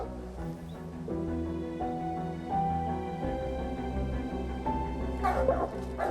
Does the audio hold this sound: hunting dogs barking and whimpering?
yes